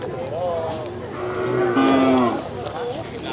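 A water buffalo lets out a few deep, drawn-out moos at close range, the calls rising and wavering over faint background noise.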